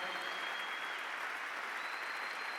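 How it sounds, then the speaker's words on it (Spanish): A church conference congregation applauds steadily, a dense, even wash of clapping from many hands that holds at a constant level, with no talk over it. "Fuerte el aplauso a Cristo, a nuestro Padre Celestial, al Señor Jesucristo y al Espíritu Santo."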